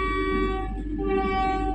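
A Vande Bharat Express train departing on the NJP to Guwahati route, a steady loud harmonic horn-like tone sustained throughout over the rumble of the moving train.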